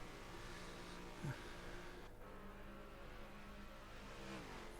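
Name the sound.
racing car engine revving in a racing video game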